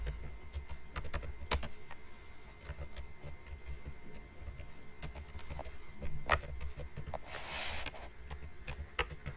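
Python code typed on a computer keyboard, quick irregular key clicks and clatters close up, with a few louder keystrokes and brief pauses, no talking.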